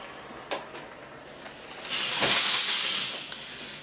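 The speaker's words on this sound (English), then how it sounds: "You want the fibers to be kind of damp from the steam." Steam hisses from a steamer onto crocheted fabric being blocked: a sustained, fairly loud breathy rush swelling through the middle, with a few faint clicks before it.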